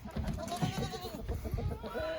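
Goats bleating on a home property, several overlapping wavering calls at close range, fairly loud against a busy background with other farm noise.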